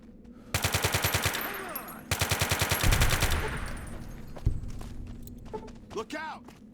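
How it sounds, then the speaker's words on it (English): Two rapid bursts of submachine gun fire in Fallout: New Vegas ripple through tight corridors, each a fast even rattle lasting about a second and a half, followed by scattered impacts and game effects with a voice speaking over them. "Tight corridors. Perfect for SMG."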